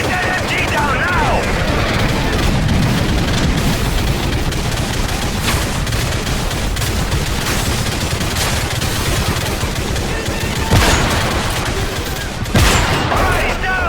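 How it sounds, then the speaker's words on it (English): Sustained heavy machine gun fire in Call of Duty Modern Warfare, loud and continuous, with sharp bursts and impacts layered over a dense battle din. "We're taking heavy fire. Get that MG down now."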